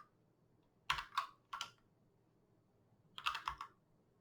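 Computer keyboard typing during a statistics calculation, a few quiet close bursts of key clicks separated by silent pauses, with no talk.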